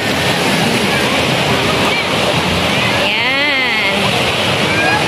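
Big ocean waves breaking at a beach, a loud, continuous roar of surf and wind noise with no pauses.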